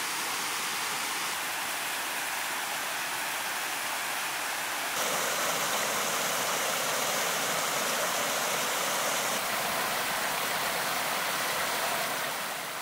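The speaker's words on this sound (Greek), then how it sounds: "Το άλλο ρέμα, ο καταράκτης στα αριστερά, με τα νερά του να έρχονται από την πλευρά της κορυφής Λούτζερ" A mountain stream and waterfall at the sources of the Sakoulevas river near Florina, a constant broadband roar of rushing water that grows louder and fuller partway through and keeps going without a break, with no voices.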